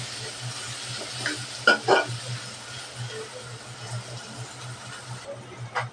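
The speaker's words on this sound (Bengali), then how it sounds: "তেল গরম হয়ে গেছে দিয়ে দেবো পেঁয়াজ কুচি আর মরিচ খালি পেঁয়াজটা ভালোভাবে ভেজে নেব" Chopped onion and chili frying in hot oil in a pan, a steady close sizzle with a low hum beneath and a few stirring scrapes and clinks, no talk.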